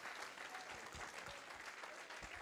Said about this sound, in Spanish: dale un aplauso al Señor para saber que hay gente aquí